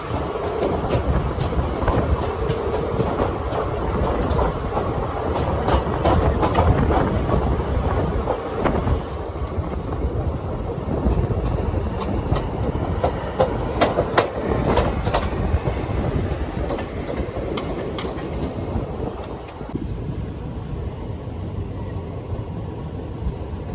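The Kakatiya Express (17660) between Bhadrachalam Road and Secunderabad rolls along the rails with a loud, steady rumble and a continuous clickety-clack of wheels over joints, with no break throughout.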